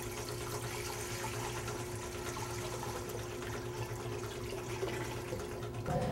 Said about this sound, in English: Make sure you put the water in first.